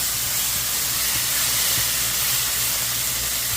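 Curry leaves frying in oil with curry masala give a dense, continuous close sizzle and hiss. It holds steady for a few seconds, with no talk.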